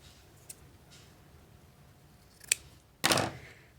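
Scissors snip ribbon while a bow is made for a book page wreath. A few faint clicks come first, then one sharp, louder cut near the end, in an otherwise quiet room.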